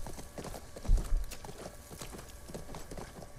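Horse hooves clip-clop in The Last of Us Part II, a steady run of moderately loud hoofbeats with a heavier thump near the start, over faint game ambience.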